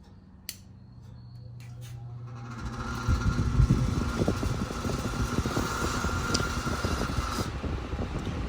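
A vintage Lakewood K-10 10-inch electric fan starts up after a brief click, spinning up and then running with a steady whir and a loud, continuous rattle from its missing feet, close by with no talk.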